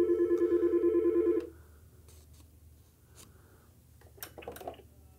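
A Yealink T41/T42 desk phone rings with an incoming call, a steady electronic trill lasting about a second and a half, then stops, followed by faint handling clicks and rustles.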